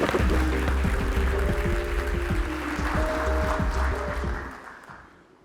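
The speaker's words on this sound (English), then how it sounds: "let's give him a warm round of applause and welcome him to the stage" An audience at the 2022 Warsaw Security Forum defence conference applauds to welcome a speaker onto the stage, a broad wash of clapping with a faint tone beneath that fades out at the end.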